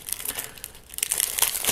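Cellophane wrapper crinkling as it is peeled off a plastic Modiano Platinum playing card deck, a close, bright rustle that swells in two bursts with no talking.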